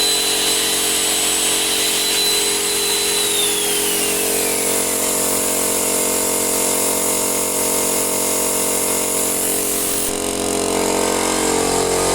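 A circular saw powered by a solar-charged battery runs continuously with a loud steady whine and hum, its pitch shifting slightly partway through before settling.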